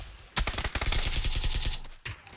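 Gunfire in PUBG: a rapid automatic burst of many sharp close shots in quick rhythm, loud and dense for about two seconds, followed by a couple of isolated cracks.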